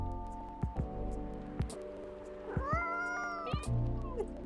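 A pet cat named Lua in a café gives a few close, rising meows among soft thumps and faint room noise, with quiet voices briefly in the background.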